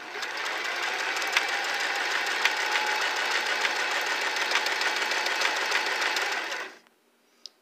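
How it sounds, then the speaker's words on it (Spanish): A Singer Simple 3337 sewing machine runs steadily for about seven seconds while sewing a selected stitch, a close, even mechanical whir with faint rhythmic ticking, then stops abruptly and leaves a brief quiet with a small click. "Ahora vamos a practicar esa puntada que escogimos."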